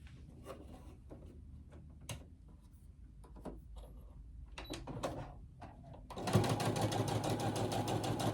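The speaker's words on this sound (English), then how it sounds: "We're going to sew these 2 together." Quiet fabric handling and light knocks come first, then a sewing machine starts up close and stitches two quilt pieces together in a dense, fast, steady run to the end.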